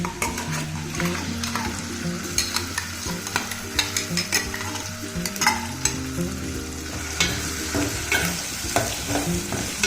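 Onion paste for a soybean curry sizzles loudly in a pan while a spatula stirs and scrapes it in frequent close strokes, a continuous frying hiss with no talk.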